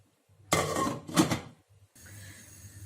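Two short clattering knocks of a metal pot of beets and water being set down on a stovetop, followed by a low steady hum.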